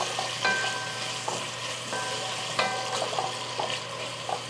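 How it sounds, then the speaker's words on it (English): Onions hitting the hot surface of a pot and sizzling steadily while the browned bits on the bottom are deglazed, with clattering stirring strokes and a few scrapes, heard up close and without talk. "I'm gonna put our onions in, and this is gonna help deglaze the bottom of the pot"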